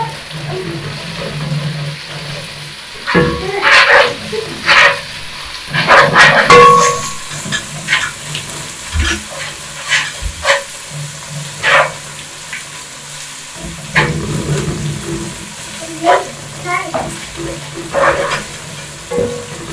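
Garlic fries in a pot for beef pilau, with loud bursts of sizzling and spattering alongside clattering stirring and scraping in uneven clusters, then a lighter steady fry between them.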